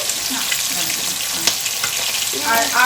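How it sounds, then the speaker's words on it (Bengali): Fish frying in a pan gives a close, steady hiss and crackle of hot oil, with a brief faint voice near the end. "মাছটা ভাজা হতে থাক"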